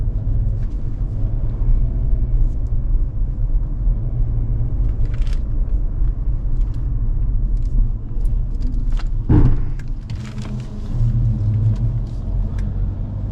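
Steady low engine and road rumble from a used Hyundai Grandeur IG on a test drive, continuous and close from inside the cabin, with a brief thump near the middle and no talk.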